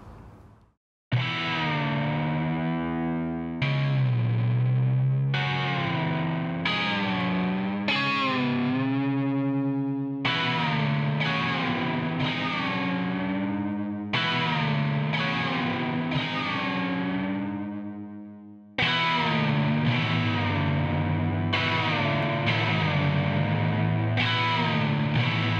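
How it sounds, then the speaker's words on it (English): Distorted shoegaze glide guitar holding a power chord, loud and dense, with pitch bending up and down in repeated swells and a short pause between phrases, no voices. "the core sound of this library is that pitch gliding, that glide guitar. Let's hear what it sounds like on a power chord."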